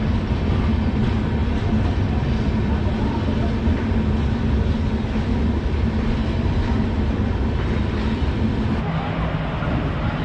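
Steady, loud rumble of the Bagh Express arriving behind a Howrah-shed WAP-4 electric locomotive at an Indian station, a continuous heavy rolling roar with no breaks.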